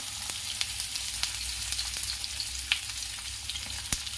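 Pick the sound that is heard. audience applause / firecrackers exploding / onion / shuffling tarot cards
onion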